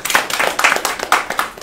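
Audience clapping at a Daejeon arts-and-culture policy seminar, a modest group of hands beating in quick, uneven bursts, close and fairly loud for under two seconds.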